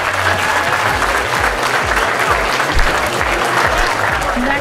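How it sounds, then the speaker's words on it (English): Sustained applause from an audience at a charity fundraiser with a silent auction, dense and steady throughout, with a soft rhythmic low thumping running underneath. "How about a nice round of applause?"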